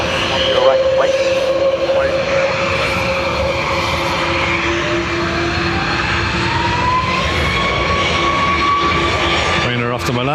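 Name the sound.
Ryanair airliner taking off from Dublin Airport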